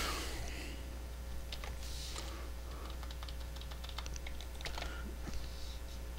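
Soft computer keyboard typing rattles along in scattered, irregular keystrokes over a steady low electrical hum, faint and close.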